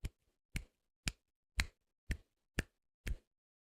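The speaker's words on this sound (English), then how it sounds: "That is the sound of one-hand clapping." Seven sharp, evenly spaced slapping claps made one-handed, crisp and close, about half a second apart with silence between.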